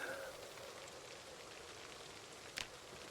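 Steady rain falling in the Project Zomboid video game, a constant soft hiss of drops that continues evenly through the whole stretch, with no voices.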